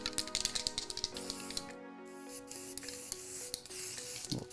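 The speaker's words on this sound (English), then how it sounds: "I'm gonna do a little texture spray now." Joico Beach Shake texture spray hisses onto hair in several short bursts during a long bob haircut, close and moderately loud, with rustling hair and handling sounds between sprays.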